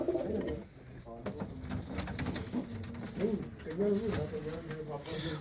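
Soft, low coos from a female pigeon sound close by, mixed with murmuring voices in the background.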